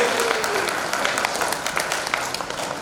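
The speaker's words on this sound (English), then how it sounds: "Please give a loud clap to Silky and Gagan" Audience clapping at a golden jubilee reunion celebration, a steady patter of many hands at moderate level with faint voices mixed in.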